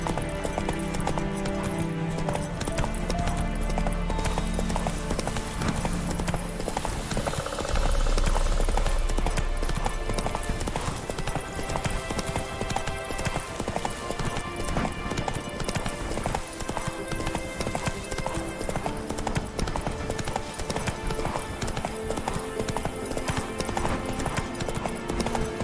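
The horse Roach trots in The Witcher 3 with a steady, rhythmic clip-clop of hooves that lasts the whole stretch. A whinny breaks in briefly, and a dense game soundscape runs underneath.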